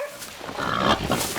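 A wild boar cornered by hunting dogs lets out a short, harsh squealing grunt that swells and holds briefly, close and fairly loud.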